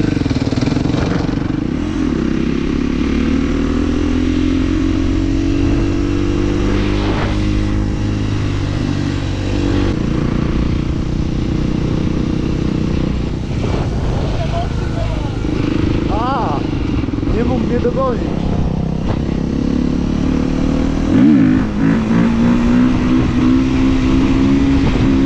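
A motorcycle engine drones and revs continuously while the rider practises wheelies, its pitch rising and falling with throttle changes, loud and close, with a voice talking over it at times.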